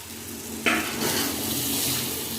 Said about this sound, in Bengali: এখন বেশ কিছুক্ষণ এই মশলার মধ্যে এগুলো এখন কষিয়ে নেব